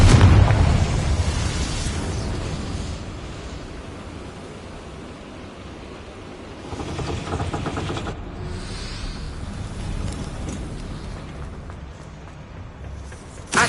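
Confringo spell explosion in Hogwarts Legacy: a loud fiery blast opens, then a long rumbling wash with a second swell midway, slowly fading and ending with a small thump.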